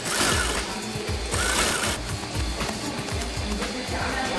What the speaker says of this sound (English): And then they sew in cross seams along the design that was sketched out earlier.